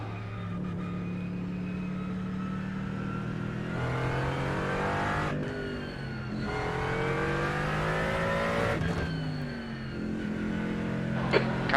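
A GT race car in the iRacing sim circles Brands Hatch on a pace lap, its engine humming steadily at moderate volume with rising and falling pitch as it shifts gears, a continuous drone throughout.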